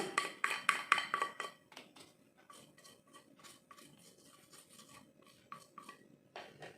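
A utensil stirring seasoning, salt, pepper and mushroom stock, into a mayo filling for risoles in a bowl, with rapid clinking scrapes loud at first, then softer irregular taps and scrapes, and a final clatter.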